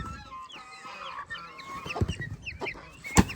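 Hens cluck and chatter close by, with soft overlapping calls, then louder rustling and a sharp knock near the end, with no one speaking.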